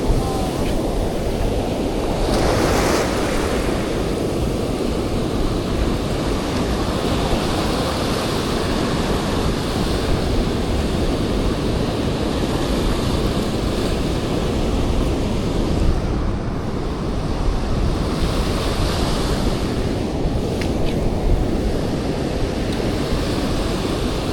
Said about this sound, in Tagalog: Grabe, lalaki ng alon, scary